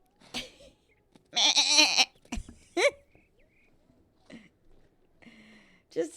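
A person imitates a constipated goat, straining out several strangled bleats with gaps between them, the loudest one drawn out in the middle, close to the microphone.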